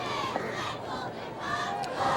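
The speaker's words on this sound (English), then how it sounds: "This crowd loves it." A high school football crowd at Centennial roars steadily throughout, a dense wash of cheering and shouting.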